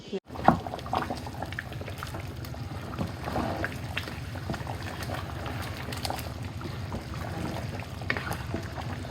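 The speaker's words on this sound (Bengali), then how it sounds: "এটা ভালো করে এখন নাড়বো।" Meat curry being stirred in a pot with coriander, ginger paste and cumin, a soft continuous sizzle and bubbling with scraping, a voice talking over it.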